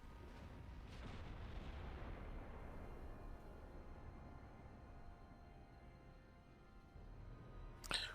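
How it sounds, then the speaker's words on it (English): Naval shells from 15-inch and 18-inch guns firing armour-piercing rounds and striking a warship's deck and belt in Ultimate Admiral Dreadnoughts, a dense rumbling barrage of booms followed by a sharp crack near the end. "And they're all hitting the deck. We've got a 15-inch hit on the belt there."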